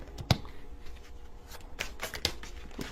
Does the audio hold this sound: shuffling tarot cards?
yes